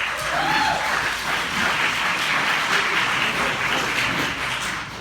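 An audience applauding at a Lincoln Parish sheriff candidate forum, steady clapping from a crowd in a hall, loud and sustained before fading slightly at the end.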